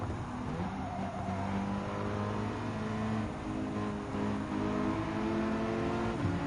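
Racing car engines in the Gran Turismo 7 video game, including a Volkswagen GTI Supersport Vision GT and a Subaru Vision GT, droning steadily with rising and falling revving tones as the cars run a lap together.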